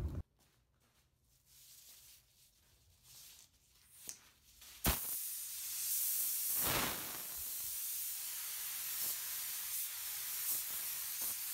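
A spray gun lays down quick, light coats of candy paint: a quiet stretch with small knocks, then a sudden loud, steady hiss of spraying that runs on close by, with brief pulses as the trigger eases.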